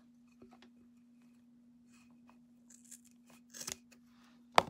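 Scissors snip off the edge of a paper collar glued around a jar lantern, a few quiet rustles and small cuts building to one sharp close snip at the end over a steady low hum.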